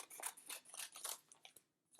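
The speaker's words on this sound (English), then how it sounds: "I am going to use my scissors, and I'm going to cut some pieces" Scissors snip through paper in quick repeated cuts, crisp rustling bursts with a short pause before a final snip; no talking.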